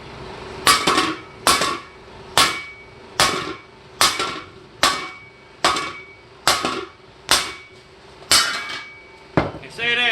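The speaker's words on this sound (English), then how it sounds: "you want to just kind of lightly tap it around here to get it to break loose with a sledgehammer or a big hammer" Sledgehammer tapping a steel tractor wheel ring to break it loose, about a dozen sharp metallic clangs at a steady, roughly one-per-second rhythm, each ringing briefly.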